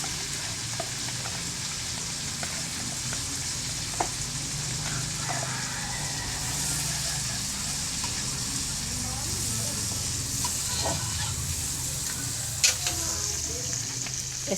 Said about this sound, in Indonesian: ditambah juga dengan bawang digoreng sampai layu, tomat masukkan digoreng sampai layu juga, baru dimasukkan cabai.